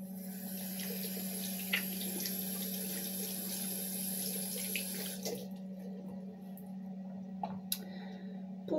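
A water tap runs into a sink to wet reusable washable wipes, a steady close splashing flow with a constant hum and a few small clicks. The flow cuts back partway through.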